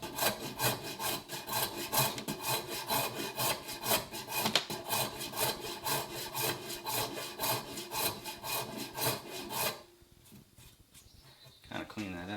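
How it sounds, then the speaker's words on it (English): A Shinto rasp files wood on a vintage hand tool being restored, making rapid, rhythmic scraping strokes up close that continue steadily, then stop briefly before a final short pass. "I'll go back over this with the Shinto rasp"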